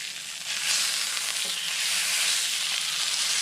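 Karimeen pearl spot fish fries in coconut oil in a pan, a loud continuous bright sizzle that swells just after the start and holds steady throughout.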